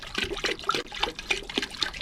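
Descaling solution is poured into a bucket of water while a tankless water heater is serviced, giving a steady close splashing gurgle with rhythmic surges over about two seconds.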